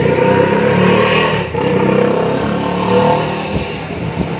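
Noisy motorbike engine revving close by outside a roadside eatery, a loud, continuous rasping roar that swells and dips slightly.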